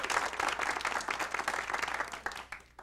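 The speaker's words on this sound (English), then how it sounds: "Let's give a round of applause." A brief burst of audience applause at a live presentation, dense clapping that fades toward the end.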